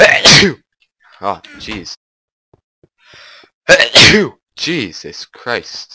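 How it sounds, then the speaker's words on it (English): A person sneezes loudly a couple of times in quick bursts, close up, with exclamations and other voices talking around the sneezes. "Ah, I sneezed."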